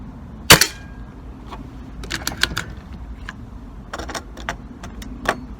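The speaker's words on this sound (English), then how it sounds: "So I've got 2 more shots on this single loader." An air rifle fires a pellet using a single loader, giving one sharp, close crack early on, followed by quieter mechanical clicks and handling sounds as the next pellet is loaded.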